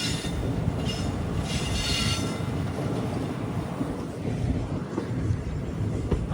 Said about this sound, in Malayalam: 4 മണി ട്രെയിൻ ഇപ്പോൾ പാലക്കാട് ടൗൺ റെയിൽവേ സ്റ്റേഷനിലേക്ക് ഇതാ എത്തുകയാണ്